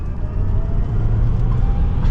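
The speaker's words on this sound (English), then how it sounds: "And we'll give it another small acceleration." A 2024 Tesla Cybertruck Foundation Series accelerating gently, a smooth low road rumble and tire roar that builds steadily from the cabin, with no engine revving.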